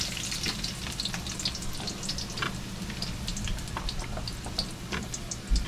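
Garlic and onion fry in a pan, a continuous close, even sizzle with scattered pops and crackles and no talk.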